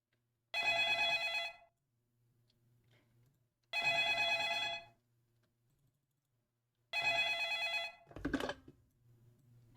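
Phone ringing in a Scratch-made Five Nights at Freddy's clone game: three loud, evenly spaced bursts of electronic ringing, each about a second long, separated by low quiet gaps, with a brief click-like sound after the last ring.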